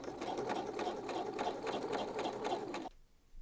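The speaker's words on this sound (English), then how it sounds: "Now stitch right along that fold line there, and for this I'm going to go ahead and use my top stitching thread." A sewing machine top-stitches along a fold in denim with heavy topstitching thread, a fast, steady, close mechanical rattle that runs for nearly three seconds before stopping abruptly.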